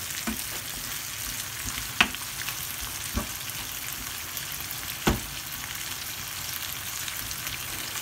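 Small dried ndakala fish fry in a pan with a steady, dense sizzle, broken by a few sharp clinks and scrapes as they are stirred, close and with no talking.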